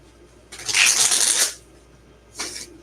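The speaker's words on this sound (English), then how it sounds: "you hear me shuffling the deck" A deck of cards is riffle-shuffled in one crisp, rustling burst lasting about a second, then a second quick, shorter shuffle follows after a pause.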